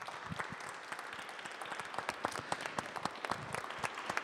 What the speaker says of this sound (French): vous applaudir pour ce témoignage